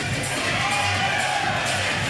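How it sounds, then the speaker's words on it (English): A crowd at a professional pickleball doubles match cheers after a shot, a dense, steady roar of voices and whoops heard at a moderate distance without clear pauses. "That crowd likes that shot, Morgan, and I think so do we."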